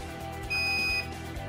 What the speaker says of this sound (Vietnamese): Khi động cơ đang quay mà ta chạm công tắc hành trình thì động cơ sẽ dừng lại và có còi báo.